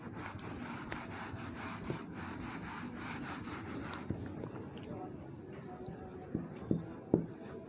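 Pen or chalk scratching out math working for a ninth and tenth grade lesson on the volume of an iron pipe, a steady rhythmic rubbing stroke that thins out midway, followed by a few sharper taps and scrapes.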